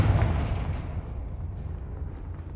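A Confringo explosive spell blasts in Hogwarts Legacy, a heavy rumbling boom at the start that decays into a long low roaring tail, loud and close.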